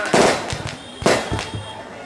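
Firecrackers set off outside during a village drama performance, two sharp loud bangs about a second apart, each followed by crackling reports, close by.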